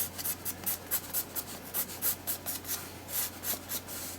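A pencil sketches on an art journal page in quick, rhythmic scratching strokes, close and fairly soft, over a faint steady hum.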